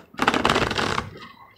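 Tarot cards shuffled by hand, one quick riffling burst of papery flutter that fades out, close and alone.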